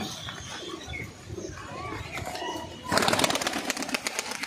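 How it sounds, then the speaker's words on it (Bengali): Giribaj pigeons are let go, a sudden burst of loud, close wing flapping midway that keeps beating in rapid pulses, after a quieter stretch with some bird sounds. "পায়রা এখন ছাড়া হচ্ছে"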